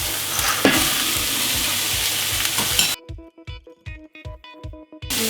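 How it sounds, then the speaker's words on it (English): Yellow peas stirred into softened chopped onions in a frying pan for vegetarian nachos: steady loud sizzling, then a run of rhythmic scraping stirs with quieter frying beneath. "So now the onion is soft, we are going to add in the yellow peas."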